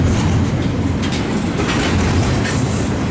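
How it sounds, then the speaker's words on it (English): A freight train rolls steadily past at close range, a loud continuous rumble with wheel clatter and rail noise filling the whole stretch, no talk. "he'll be passing by here, and then yeah, it looks like the DPU's a KCS unit"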